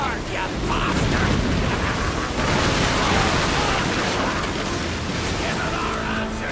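Ship cannon fire in the pirate game Assassin's Creed Black Flag, a sustained loud roar of blasts and rumbling smoke-like wash that fills the whole stretch, with no clear separate shots standing out.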